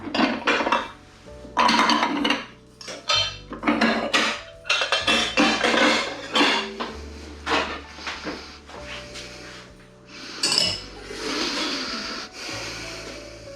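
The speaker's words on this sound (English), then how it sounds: "I'm going to transfer it into another dish to prevent it from continuing cooking." Cooked custard moved from a pan into another dish in a kitchen, with repeated clinks and scrapes of utensil on metal and crockery in an irregular series of close, moderately loud bursts.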